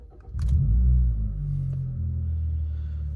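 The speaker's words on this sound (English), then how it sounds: "I'm going to start the car back up." A 2015 Kia Optima with 122k miles and a muffler delete fires up from a warm start, a brief crank followed by a deep, steady low rumble of idle that holds close and loud.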